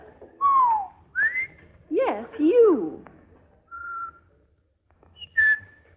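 Bright melodic whistling of a tune in short sliding phrases, with someone briefly speaking and singing between the whistled notes.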